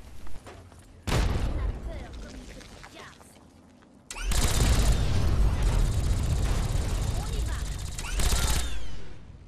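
A car blows up in Fallout 3, a heavy explosive burst with a brief first blast followed by a sustained loud roar and crackle of debris, while someone talks in French over parts of it.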